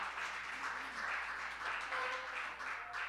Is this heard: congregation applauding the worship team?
yes